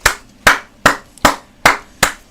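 Six sharp, evenly spaced claps ring out one after another, loud and close, with no voices in between.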